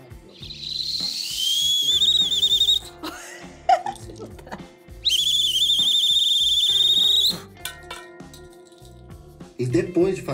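A handheld whistle gives two long, loud, shrill blasts during a whistle-lesson challenge among friends, with clinks and brief voices in the pauses between them.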